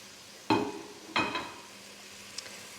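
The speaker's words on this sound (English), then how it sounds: "So I'm adding in the parsley, the Greek basil, the shadow benny, and the spring onions." Parsley, Greek basil, shadow benny and spring onions are dropped into a hot cooking pot for breadfruit soup, giving two close bursts of sizzling and stirring about half a second apart, then a faint tap.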